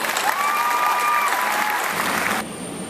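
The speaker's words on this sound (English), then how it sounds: "I think you should give them a round of applause" A crowd claps steadily at a Calallen high school graduation ceremony, honoring administrators, teachers and coaches. Dense applause fills the space and drops off abruptly near the end.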